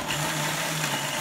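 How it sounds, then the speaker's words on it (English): A blender whirs steadily while blending dates into a thick date paste, a loud, even motor drone with no pauses or voices. "Blend your dates into a date paste."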